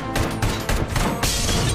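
ED-209 gunfire from Robocop Rogue City bursts out in a loud, rapid volley of shots lasting under two seconds, close and dense.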